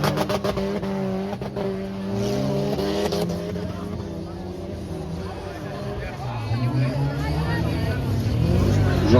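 Stock cars race on a wood-category track at Bertrix, their engines revving and sweeping up and down in pitch as they pass. Crowd babble and nearby talk run over the engines throughout.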